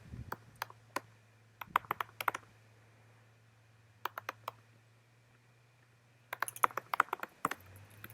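Computer keyboard keys tapped in short clustered bursts while an address is entered, with pauses between runs of clicks over a low steady hum, no talking.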